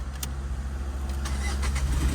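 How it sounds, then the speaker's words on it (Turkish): Car engine being started during a driving test, a low steady engine rumble with a few sharp clicks and a rising mid-range whir as it catches and settles to idle. "Arabayı çalıştırabilirsin şimdi."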